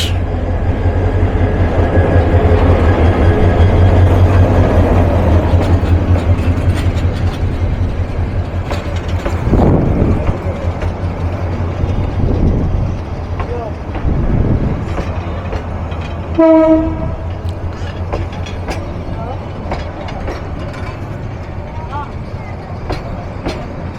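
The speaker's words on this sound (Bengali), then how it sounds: "train number 752 down Lalmoni express প্রবেশ করছে জয়দেবপুর রেলওয়ে জাংশনের 2 নম্বর প্ল্যাটফর্মের 3 নম্বর লাইন ধরে" Lalmoni Express, a 2900-class locomotive numbered 2928, rolls into Joydebpur railway junction with a heavy rumble and clatter that slowly fades, then a short sharp horn blast; people talk faintly in the background.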